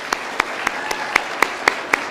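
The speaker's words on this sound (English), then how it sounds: "I'd like to give them a great round of applause." At a community grant awards celebration, applause for staff comes through as sparse, distinct claps at a steady rhythm, roughly four per second, fairly close over a quiet room.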